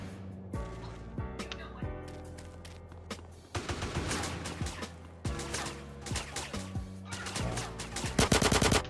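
Bursts of AK rifle automatic fire in the video game GTA San Andreas, loud and close, with repeated volleys over a steady game soundscape and a dense rapid burst near the end.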